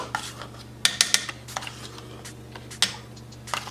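Berry yogurt made with blackberries, raspberries and blueberries is mixed into a cheesecake mixture in a bowl, with sharp clinks and scrapes of a utensil against the dish coming in irregular bursts, close and alone without talk.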